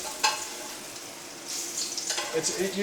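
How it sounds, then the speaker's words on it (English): Hot oil spooned over a steak in a pan, with loud sizzling that swells and crackles as the oil hits the meat. "You're going to take some of this oil and you put it right over the top of the steak."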